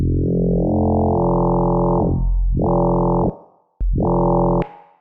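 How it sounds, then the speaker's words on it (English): An FM synthesis patch in which two sine waves set an octave apart modulate a single sine carrier. It plays as a bright, buzzy, harmonic-rich tone in three sustained notes with short gaps between them, loud and alone. "That's the sound of two sine waves, each set an octave apart, affecting the output of a single sine wave"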